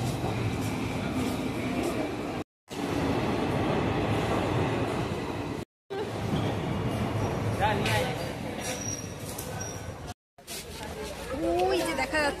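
Train and rail carriage noise at a busy railway station, a steady rumble with wheel squeals and clatter, broken by short silent cuts, with people talking throughout.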